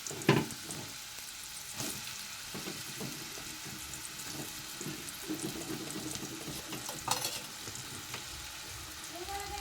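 Pieces of roti are tossed into hot oil tempered with cumin, giving a low steady sizzle broken by scattered clatters and stirring knocks, with a faint watery hiss in the background.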